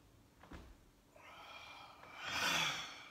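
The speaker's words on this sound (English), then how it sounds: "Breathing in deep." Deep breathing during a guided exercise routine: a short sharp intake, then a long slow inhale rising to a loud, close breath near the end, with no talking.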